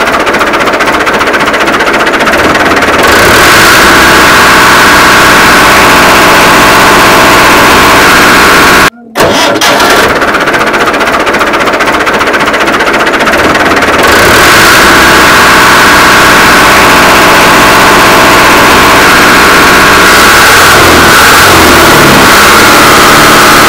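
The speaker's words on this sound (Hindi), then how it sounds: "सो अब हम इस ट्रैक्टर का साउंड सुन लेते हैं।" A 2016 Al Ghazi New Holland 640 tractor, its silencer and air cleaner in good order, runs continuously, its engine close and loud with a steady rumbling drone that holds throughout, with no talking over it.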